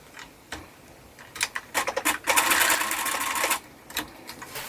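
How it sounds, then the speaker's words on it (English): A sewing machine runs a straight stitch across felt trim on a back piece for a photo-frame ornament, starting with short bursts and then one steady, close, clattering run. "we are going to just sew this trim to this back piece right here across with a straight stitch"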